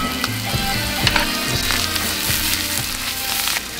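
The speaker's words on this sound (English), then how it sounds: "And this is the soffritto. Beautiful colors, great aroma, and great sound." Italian soffritto with rosemary frying in a pan for pasta e fagioli, sizzling loudly and steadily with crackling pops and the occasional scrape of stirring, close up and with no talking.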